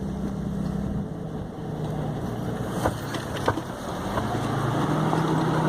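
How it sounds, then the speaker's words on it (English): A 1997 Jeep driving off-road on a rough trail, with a steady engine drone and wind noise and a few sharp knocks and rattles from a loose track bar. "That noise is just my track bar."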